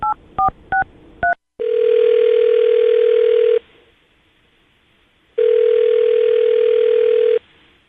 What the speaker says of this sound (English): We'll dial his phone number and see if we can figure it out for you